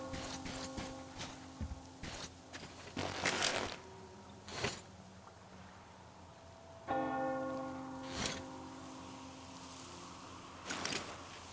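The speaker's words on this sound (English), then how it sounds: "Do you hear that bell?" Slow, resonant bell strikes ring out repeatedly with long decaying tails in the Metro Exodus game, spaced several seconds apart over quiet ambience and faint creaks, with no talking.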